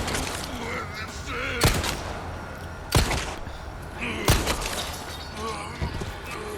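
Gunshots ring out in the Resident Evil 4 Remake, several loud, separate blasts spaced about a second or more apart over a busy background of game sound.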